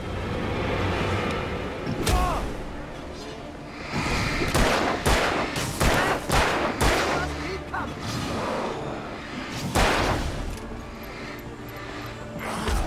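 Repeated gunshots crack through a desperate last-stand fight in the video game Alan Wake, arriving in scattered bursts over a steady din while shouting voices break in between.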